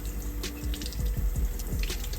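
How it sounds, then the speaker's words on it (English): Sea moss being rinsed under a running kitchen tap, with steady splashing water into a sink and a few scattered drips, close and continuous with no talk. "re-rinse it with spring water."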